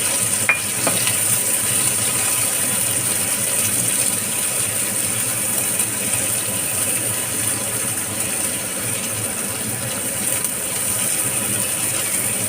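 Chopped onion fries in a pan, a continuous close sizzle with faint stirring scrapes running steadily throughout, no talk over it.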